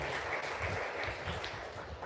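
A church congregation claps together for a family that prepared refreshments, a soft, fairly distant patter of many hands, steady throughout with no voices over it.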